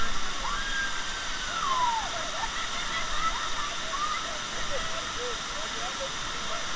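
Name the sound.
Navajo Falls waterfall at Havasupai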